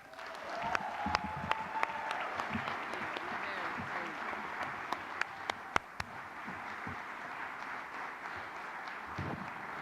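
Welcoming applause for a singer at a concert, a sustained wash of clapping from the crowd with scattered sharper claps, holding at a moderate level throughout.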